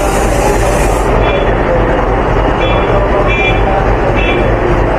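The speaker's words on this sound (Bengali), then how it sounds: "এই হচ্ছে আমাদের ট্রেন এন্ট্রি নিচ্ছে।" A train pulling into a station platform on a trip to Darjeeling, a loud, dense, continuous rumble of wheels and carriages close by, with faint squealing tones and a busy crowd underneath.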